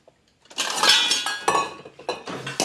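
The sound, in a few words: small bowl being set down for pepper seeds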